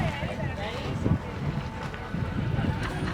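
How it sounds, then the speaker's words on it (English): Gusty wind buffeting the microphone in low rumbling bursts, with indistinct voices partly buried beneath it. "So windy out here."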